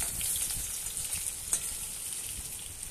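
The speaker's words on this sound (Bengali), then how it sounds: "এই মাছগুলো এক সাইড ভাজা হয়ে গেছে, অপর সাইড আবার পাল্টে দিচ্ছি।" Small fish frying in hot oil in a kadai, giving a steady, moderately loud sizzle with a soft clunk as pieces are turned over to the other side.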